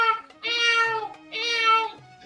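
A human voice imitates a cat, giving two drawn-out, rising-and-falling meows close up with a short gap between them and no other sound.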